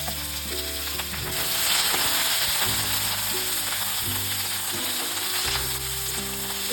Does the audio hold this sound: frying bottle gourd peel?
yes